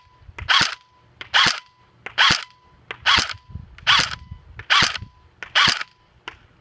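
An APS ASR 114 airsoft rifle firing at a distant target outdoors: seven sharp, evenly spaced snapping shots, each about a second apart, loud and close to the shooter.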